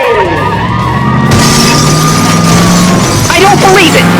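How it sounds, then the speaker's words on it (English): A video game race crash with a massive explosion, a loud continuous roar of shattering and engine noise under excited commentary that runs throughout. "Holy moly! Massive explosion!"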